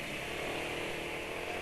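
A Honda motorcycle engine drones steadily and loudly, a continuous close rumble with no breaks or voices.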